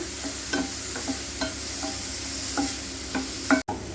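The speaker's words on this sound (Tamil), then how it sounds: "இது கொஞ்சம் நல்லா வதக்கி விட்டுக்கலாங்க" Chopped onions sautéing in a pan for paneer bhurji, a soft steady sizzle broken by repeated scraping taps of a spatula stirring, close and alone.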